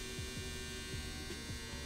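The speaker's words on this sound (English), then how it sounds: "That's my dryer." A hair dryer runs steadily indoors, a continuous droning hum with faint periodic throbbing, lasting the whole stretch with no speech over it.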